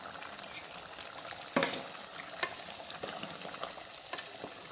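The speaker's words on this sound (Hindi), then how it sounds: "दही डालने के बाद उसको अच्छी तरह से भून लेंगे" Yogurt and chicken frying in a karahi with masala, a steady close sizzle with occasional stirring scrapes and one louder clatter, no voices.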